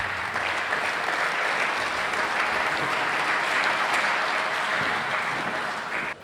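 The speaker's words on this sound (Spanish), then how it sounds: "Recibámosla con un fuerte aplauso." Steady, dense clapping from a large audience at an academic conference keynote, loud and sustained for about six seconds before tapering off at the end, with no voices over it.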